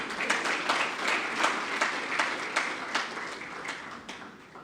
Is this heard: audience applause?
yes